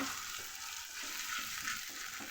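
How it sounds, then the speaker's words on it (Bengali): Black cumin paste with a little turmeric fries in a pan, producing a soft, continuous sizzle, faint and even throughout with no voices. "কালো জিরা দিয়ে বাটাটা দিয়ে দিলাম, একদম ইজি রান্না। একটু হলুদও দিয়ে দিলাম, দিয়ে এবার ভালো করে শুধু জাস্ট ভেজে নেব।"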